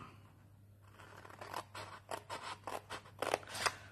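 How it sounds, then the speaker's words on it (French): Small scissors snip fabric repeatedly in short, crisp bursts, growing more frequent toward the end, over a low steady hum. "avec des petits ciseaux comme ça"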